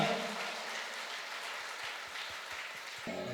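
A church congregation breaks into sustained, dense applause, a steady roar of many clapping hands that holds evenly and then fades as another sound enters at the end.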